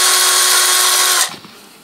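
A cordless drill spins a reciprocating saw adapter fitted with a blade, giving a loud steady high whine with a buzzing tone for over a second, then cutting off abruptly into quieter rattling and handling noise.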